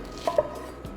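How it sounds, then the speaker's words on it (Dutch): A knife chopping shallots into small pieces, with two or three soft, close thuds on a cutting board in a quiet kitchen while making soto ayam soup. "En dan de salotjes. We durven iets kleiner snijden, zodat het makkelijker vermengd wordt."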